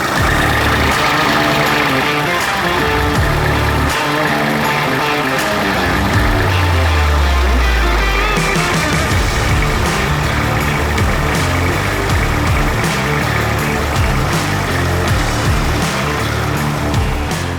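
A Kubota KB-20 Japanese mini tractor's small diesel engine idles warm with a steady, rattling chug, loud and close, holding an even rhythm throughout.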